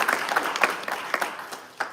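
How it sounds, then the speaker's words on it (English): Brief applause at a bill signing, a scattered room of hands clapping close by with quick uneven claps that trail off within two seconds. "Let's give them a round of applause."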